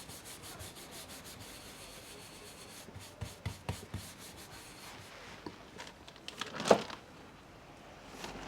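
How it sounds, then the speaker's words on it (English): Pigment being rubbed onto carved wood during Japanese woodblock printmaking: soft, quiet scraping and brushing strokes, sparse at first, then quicker, louder rubs and a sharper scrape near the end, with no talking. "Carved bits of wood with pigment rubbed on result in something like this."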